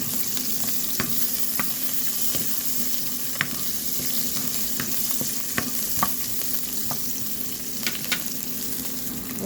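Garlic and ginger frying in a pan for a zucchini and meatball dish, a steady close sizzle with scattered clicks and scrapes of stirring, no voices.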